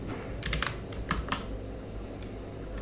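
Light tapping on a computer keyboard while C code is written, a few quick clustered keystrokes over a steady background hum.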